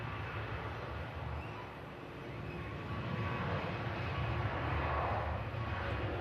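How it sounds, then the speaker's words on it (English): A cargo Boeing 747 taxiing toward the active departure runway 23 left, a steady low jet engine rumble and whine heard from a distance, swelling slightly toward the end. "now the 7-4 continues and finishes off its taxi to enter the active departure runway"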